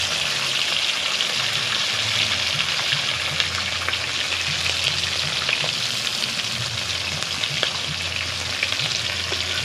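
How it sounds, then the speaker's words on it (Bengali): Egg kabiraji frying in hot oil in a kadai, a dense, loud, close sizzle with fine crackling that holds steady from start to finish, no voices. "এবার ডিমের কবিরাজিগুলো ভেজে নেব।"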